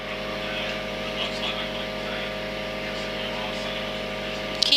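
Light aircraft engine droning steadily and close throughout a landing approach toward a runway, a constant propeller hum with a brief louder bump at the very end.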